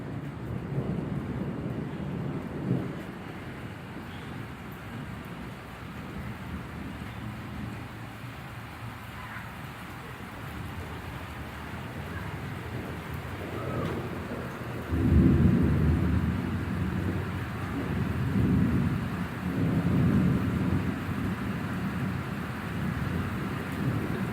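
A Tucson monsoon thunderstorm gives long, rolling thunder over steady rain, heard from outdoors with wind buffeting the microphone and rumbles swelling loudest near the end.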